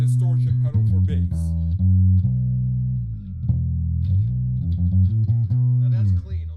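An electric bass in Johnny G's rig plays with a clean, undistorted tone, with loud sustained low notes and short slides forming a simple riff, ringing close and clear with no effect engaged.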